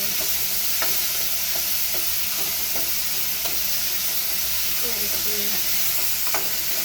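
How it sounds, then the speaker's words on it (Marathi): Chopped onion, garlic and curry leaves frying in oil in a pan for besan pithale, a loud steady sizzle with rhythmic scraping and tapping of a spatula stirring throughout. "आपण चॉप केलेलं कांदा, लसूण, कढीपत्ता हे सगळं फ्राय करून"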